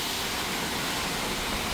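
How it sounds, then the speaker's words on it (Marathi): Heavy rain pouring down in a continuous, dense hiss of steady broadband noise, loud and unbroken throughout, with no voices. "पाऊस सुरू झालाय अक्षरशः."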